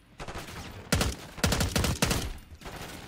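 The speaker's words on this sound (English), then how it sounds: "There you go, shoot your gun." Gunfire from the Black Ops 6 campaign, with several sharp, loud bursts of rapid shots separated by brief gaps, over a low background of in-game ambience.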